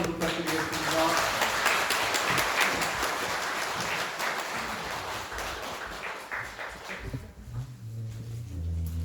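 A temple congregation applauds at a New Year ceremony held at Hwaeomsa temple on Jirisan, a steady broad wash of clapping that fades toward the end as low voices and room noise take over.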